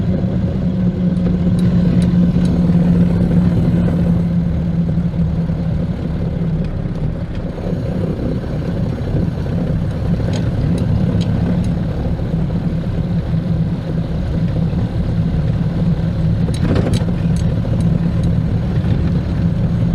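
A Ford Model A engine runs steadily during a ride, giving a constant low mechanical drone with a persistent hum, recorded from inside the car with no talk.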